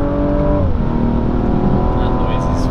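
A BMW 135i engine accelerating hard in Sport mode, heard from inside the car as a loud, continuous rising roar with a climbing pitch that stays strong throughout.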